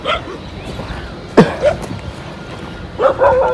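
A dog near railway staff quarters gives a few sharp yelps and short barks, one loud burst then quieter whimpering yips, with background noise and no talk.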